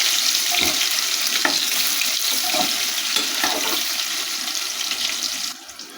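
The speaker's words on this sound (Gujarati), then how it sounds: "ધીમા ગેસ ઉપર બટાકાને 1 થી 2 મિનિટ માટે સાતળી લઈશું." Stuffed potatoes sauté over a low gas flame in a steady, close hiss of frying with occasional faint clinks. The sizzle drops off sharply at the end.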